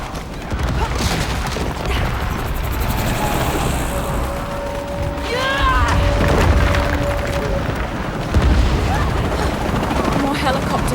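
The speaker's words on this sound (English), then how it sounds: "More helicopters." Helicopters flying in combat in Shadow of the Tomb Raider, a steady low rotor rumble under bursts of gunfire and booms, with radio voices talking over the action.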